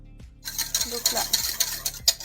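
A utensil stirs a pistachio cream mixture in a bowl, soft close scraping and light clinks against the bowl in a few quick strokes, quiet and without speech.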